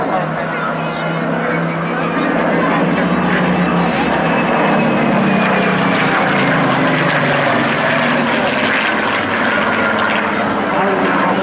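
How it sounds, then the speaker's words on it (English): A Spitfire flies over the Clacton Air Show in 2014, its propeller engine giving a steady, full-bodied drone throughout, with an announcer's commentary running over it. "So this Spitfire model, not actually a veteran of the Battle of Britain itself, but a founding member of the Battle of Britain Memorial."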